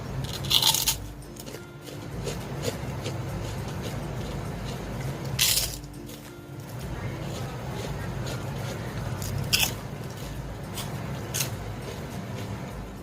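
Crunchy homemade krupuk crackers, made from leftover rice, are bitten and chewed up close. Loud crisp crunches come in bursts over steady background noise.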